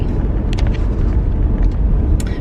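Steady low engine and road rumble inside a moving car, constant and fairly loud throughout, with a few faint high clicks over it.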